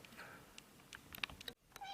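A cat gives a few short, faint meows in a quiet indoor room, brief calls spaced across a couple of seconds with no talking.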